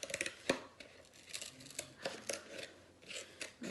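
Scissors cutting around a paper circle: a close run of crisp snips and crunchy paper slicing, coming in quick irregular bursts with brief pauses between cuts.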